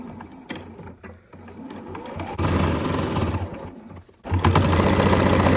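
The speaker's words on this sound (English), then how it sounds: "I want to back stitch a couple stitches when I first start" Sewing machine back stitching a quilted mug rug: short bursts of rapid mechanical stitching, stopping and restarting, then a longer steady run close by with no talking.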